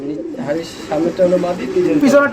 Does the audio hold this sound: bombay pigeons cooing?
yes